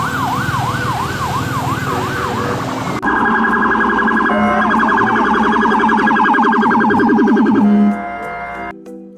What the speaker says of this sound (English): Next, this is police car.